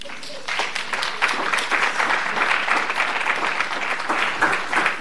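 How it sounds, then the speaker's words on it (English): High school students at a school board meeting applaud steadily, many hands clapping at once in a sustained, moderately loud burst that starts after a brief pause. "Lots of claps from the high schoolers."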